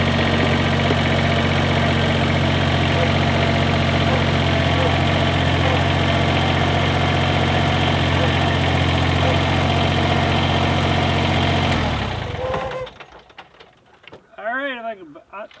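A tractor engine idles steadily and loudly for about twelve seconds, a constant droning hum that cuts off abruptly, then a person speaks briefly.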